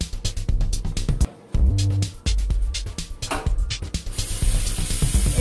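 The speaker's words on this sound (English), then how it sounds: "You're going to pour about maybe half a cup of buttermilk in there." Buttermilk poured from a container into a bowl of chicken dressing mix, a steady close splashing pour broken by brief clinks and knocks, with a short pause midway.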